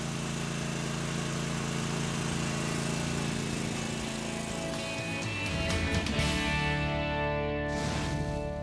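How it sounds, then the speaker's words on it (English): Mower engine fueled from a refilled cylinder running steadily, a dense continuous drone with a low hum and tonal whine that shifts in pitch partway through, close and constant with no talk. "Start the mower, and you are ready to go."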